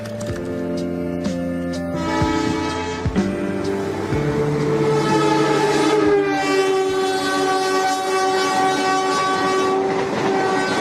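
A train passing through Semarang, Indonesia rumbles past close by, its horn sounding in long blasts over the steady clatter of wheels on the rails.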